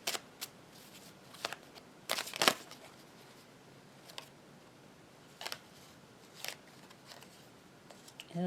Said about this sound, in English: a whole group of cards kind of flip out on me